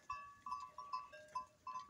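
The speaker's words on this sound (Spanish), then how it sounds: "Pues cabra, qué cabrillas, qué dañinas son." Several goats bleat in short, nasal, wavering calls, about six in quick succession at moderate distance over a quiet outdoor background.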